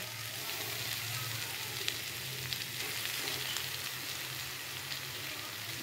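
Small lote fish, Bombay duck, hit a pan of fried spices with a steady, even sizzle, a soft hissing wash of frying at moderate level that carries on throughout with no talking.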